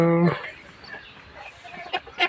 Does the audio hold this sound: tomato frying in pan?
no